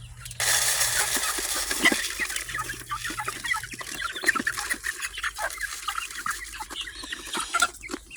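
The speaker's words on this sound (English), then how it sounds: "Finish their little chicken coop or whatever." Backyard chickens by their coop during morning chores cluck and chatter continuously at close range, with scattered sharp calls over a steady outdoor background.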